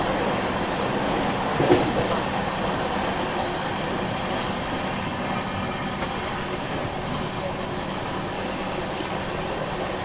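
The Mumbai Nagpur Duronto express runs at high speed, a steady, loud, continuous roar of wheels and rushing air with no voices.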